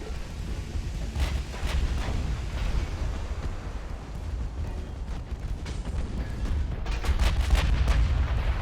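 Naval gunfire in the battleship game Ultimate Admiral: Dreadnoughts, a continuous loud rumbling barrage of heavy booms with repeated sharp cracks of shells landing, intensifying toward the end.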